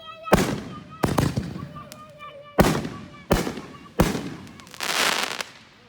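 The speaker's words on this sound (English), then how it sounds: "See? We can control fireworks." Fourth of July fireworks bursting outdoors in 2020, five sharp loud booms at roughly one-second intervals, each followed by crackling, the last one longer and fizzing, with people faintly talking in between.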